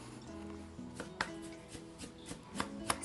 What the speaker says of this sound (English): So I sliced up tomatoes